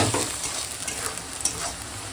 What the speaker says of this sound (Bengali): এখন কড়াতে দিয়ে দেবো একটু তেজপাতার ফোড়ন দিয়ে আর দিয়ে দেবো পেঁয়াজ কাঁচা লঙ্কা দিয়ে এখন ভেজে নেবো